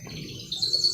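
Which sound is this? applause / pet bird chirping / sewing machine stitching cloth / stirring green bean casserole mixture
pet bird chirping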